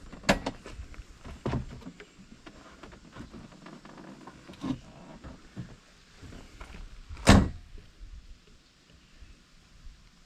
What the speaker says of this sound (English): We'll open the door back up and we'll push in at the top of the door.